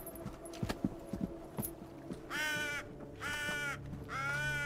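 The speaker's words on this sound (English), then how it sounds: "I think that's our raven" A raven in Assassin's Creed Valhalla gives three loud, harsh caws in succession, following soft hoof clip-clops and footsteps in the game's outdoor setting, with no talking over it.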